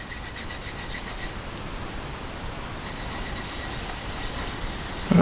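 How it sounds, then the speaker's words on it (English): Washers are rubbed back and forth on a 1/2 micron DMT diamond plate, producing a steady, close, gritty scraping hiss with subtle strokes and a brief knock at the end. "let's go ahead and finish polishing on the 1/2 micron DMT"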